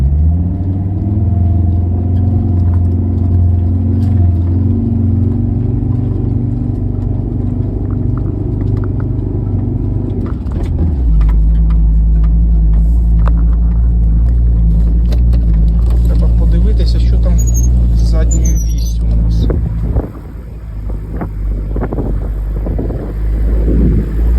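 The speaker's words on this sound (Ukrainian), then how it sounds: "Пробуємо блокувати диференціал і їхати на заблокованому диференціалі." A VW T4 4x4 van crawls through a wet plowed field, its engine a loud, steady low rumble that shifts pitch as the differential is locked, with someone talking over it throughout.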